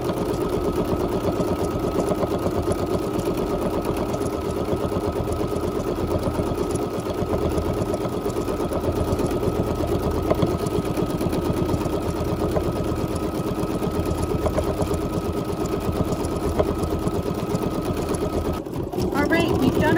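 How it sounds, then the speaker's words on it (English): A Bernina embroidery sewing machine stitching a programmed stippling pattern at reduced speed, a continuous close, even mechanical hum with a fast rhythmic needle pulse for the whole stretch. "I've slowed down the speed on my machine"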